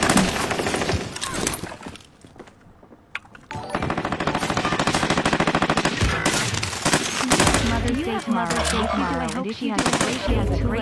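Rapid automatic gunfire rattles in a video game shooter, with loud bursts of machine-gun fire broken by a short lull, then more sustained firing mixed with game sounds.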